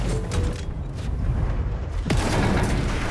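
A sniper shot strikes a player in a video game. A single sharp crack lands near the two-second mark, set against dense, loud, rumbling battle noise that runs throughout.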